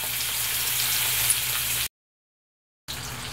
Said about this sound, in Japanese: 弱火にして15分から20分、皮がカリカリになるまで焼きます。